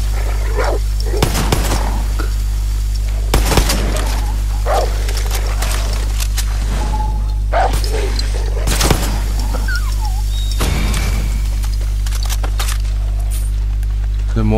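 Barks and snarls from an attacking dog in the Far Cry 6 game come in scattered sharp bursts, close and loud, and someone talks in between them.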